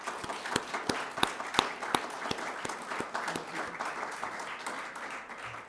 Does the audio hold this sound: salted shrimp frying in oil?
no